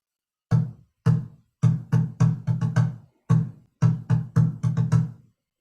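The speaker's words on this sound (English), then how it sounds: "when we hit the bucket in the middle here, we're going to hear a low tone like this" Low, booming hits on a bucket drum, struck in the middle, played in a lively rhythm of single thumps and quick clusters.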